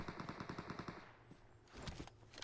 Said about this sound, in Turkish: Şurada çatışma var.